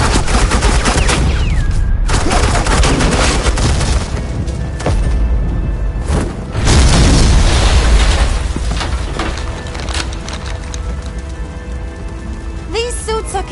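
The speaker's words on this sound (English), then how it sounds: "Suppressing fire." Loud, dense suppressing gunfire in the Batman: The Enemy Within video game, with sustained rattling bursts and booming impacts that rise and fade over several seconds, while voices sound underneath.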